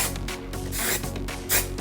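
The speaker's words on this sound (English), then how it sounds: "I always like try to spray up" Hairspray hisses from an aerosol can onto the ends of long hair being styled into voluminous waves, a steady close spray with a brief stronger burst near the end.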